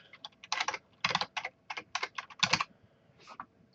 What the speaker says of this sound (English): I'm gonna type in localhost.